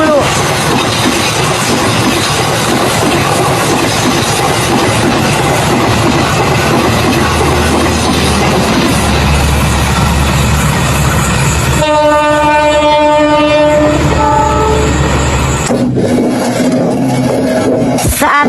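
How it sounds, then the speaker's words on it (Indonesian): A train rumbles past loudly with rolling wheel noise, its horn blaring in long tones near the end. "Wah, ada kereta mau lewat."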